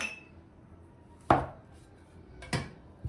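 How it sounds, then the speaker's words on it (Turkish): Knife cutting spiced cookie dough into two pieces on a board, two sharp near knocks of the blade striking the surface a little over a second apart, otherwise quiet. "Şimdi bunu iki parçaya böleceğim."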